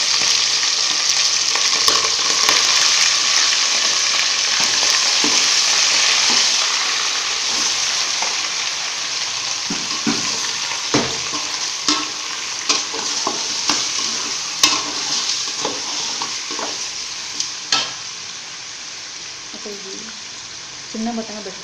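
Chicken fries in a pan with curry leaves for kulambu, a loud continuous sizzle that settles down partway, then sharp spoon scrapes and stirs grow more frequent toward the end.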